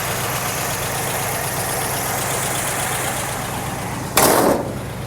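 1976 Cadillac Eldorado engine running at a steady idle, close and continuous, with a brief loud rustling burst near the end.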